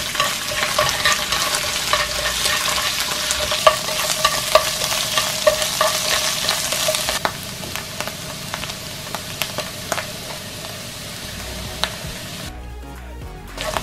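Seasoned king oyster mushrooms stir-fried in a hot pan, a continuous close sizzle with rapid scraping and tapping of the stirring utensil, louder in the first half, then easing before a brief quiet at the end.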